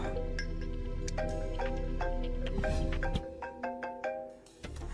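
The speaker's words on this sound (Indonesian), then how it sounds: "Bel, telepon kamu bunyi tuh." Mobile phone ringtone playing a bright repeating electronic melody of pinging tones, loud and close, steady at first and then breaking into shorter spaced notes before cutting off.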